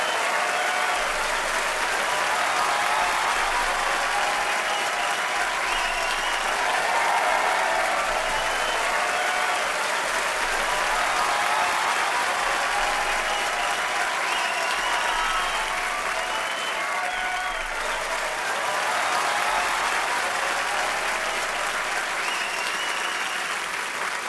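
A studio audience at a comedy talk show claps loudly and continuously to welcome guests onto the stage, a dense, sustained roar of many hands that holds steady for over twenty seconds with faint crowd murmur beneath.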